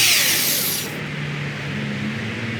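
A power tool drives and tightens supplied hardware on a fishing kayak during assembly, a loud continuous whine that drops in pitch after about a second and keeps running close by.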